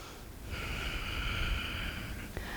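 A steady nasal breath during a vinyasa yoga flow, one long airy exhale held close to the mic for about two seconds before a small click, with no talking.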